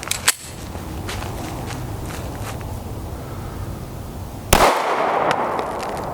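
A 9mm FNS 9C pistol with a 3.6-inch barrel fires Geco 115-grain JHP rounds: two sharp, loud reports about four seconds apart, the first near the start and the second followed by a ringing, noisy tail.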